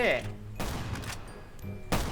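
Bursts of gunfire in the video game Last Island of Survival crack out in short volleys separated by brief pauses, fairly loud, with some music-like tones underneath.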